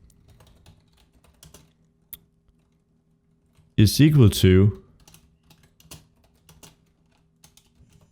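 Computer keyboard typing code in a Unity game tutorial, scattered soft key clicks spread across the clip, with a short burst of speech in the middle.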